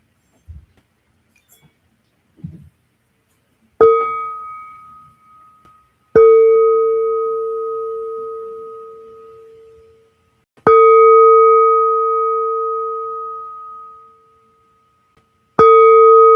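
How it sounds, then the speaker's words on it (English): A meditation bell rings as a reminder to be present, struck three or four times, each strike a clear bright tone that rings on and slowly fades, with a few soft thuds before the first strike and no voices. "That beautiful sound of bell is our reminder to become present."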